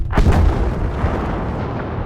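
A massive V1 flying bomb explosion from Battlefield V hits with a loud broadband boom and a sharp initial blast, then rolls into a long, dense rumble of debris that slowly fades over about two seconds.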